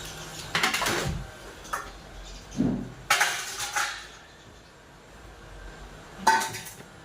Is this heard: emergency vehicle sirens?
no